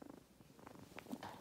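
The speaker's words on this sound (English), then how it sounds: "Purring." A lilac point Siamese kitten purrs softly and steadily up close in a quiet indoor room, a low rhythmic rumble with no talking.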